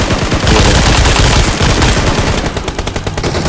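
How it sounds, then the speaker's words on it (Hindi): Rapid bursts of automatic gunfire in a video game rattle loudly and continuously, close up, with dense overlapping shots and no voices. "अभी एक जगह गोली चलाऊंगा तब देखना था कितना डैमेज होगा।"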